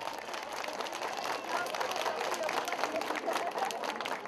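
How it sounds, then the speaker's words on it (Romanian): A crowd applauds the mayor at the Rojiste commune day celebration: dense, continuous clapping that holds steady and close, mixed with crowd chatter throughout. "vreau să-l aplaudați ca să audă"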